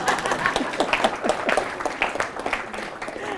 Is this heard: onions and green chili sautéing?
no